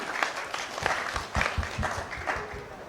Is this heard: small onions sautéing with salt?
no